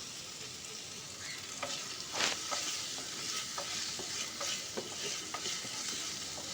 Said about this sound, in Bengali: তো টমেটোটাকে দিয়ে আমি খুব ভালো করে মশলার সঙ্গে কষিয়ে নেব।